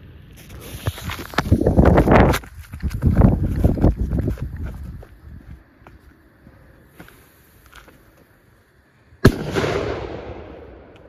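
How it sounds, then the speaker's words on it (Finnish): A Tropic FP1 firework shell launches outdoors with a crackling rush and loud booming bursts, fading into wind noise before a final sharp bang and crackling tail. "Ja sit lähtis vielä illan vikapommi Tropicilta FP1."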